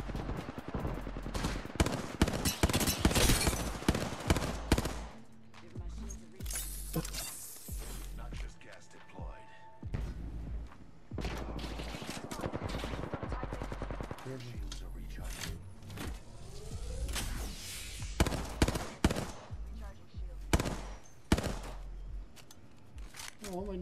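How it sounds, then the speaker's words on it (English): Bursts of video game gunfire in Apex Legends shooting out gas canisters, sharp rapid volleys and scattered single shots coming and going over about twenty seconds, with players talking over the action. "They're shooting the canisters out."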